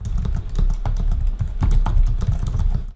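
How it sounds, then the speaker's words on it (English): Typing on a gaming laptop keyboard, a steady run of quick, close keystrokes with soft clicks and thumps throughout, no voices. "I liked typing with the keyboard, no problems to report. Here's how it sounds to give you an idea of what to expect."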